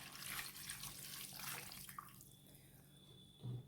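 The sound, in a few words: pouring coconut milk into a fish clay pot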